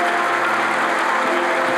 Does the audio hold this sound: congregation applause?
yes